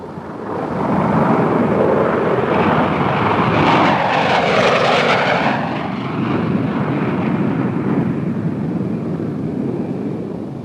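Engines of a Northrop B-49 flying wing jet bomber roar in a loud, sustained rumble that swells toward the middle as the aircraft passes, then settles into a steady drone.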